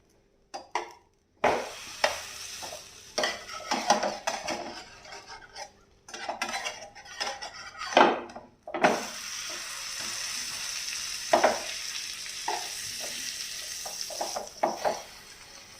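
Slices of bread fry in a pan for a simple mayonnaise sandwich. A continuous close sizzle runs throughout, broken by scraping and clattering of a utensil against the pan as the bread is turned over. No one speaks.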